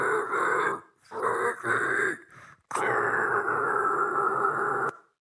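Layered slam-metal vocal growls: several short guttural bursts, then a longer sustained growl, loud and close, with no other talking.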